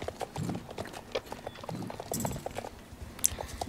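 Horses gallop in the Star Stable video game, a steady rhythmic clip-clop of several hooves close up, with faint game effects and no talking over it.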